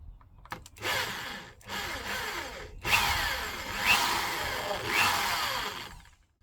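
A power drill whines and grinds through material in several bursts, pausing briefly between them, loud and close, drilling a hole while fitting a bumper splitter on a Honda Civic Type R.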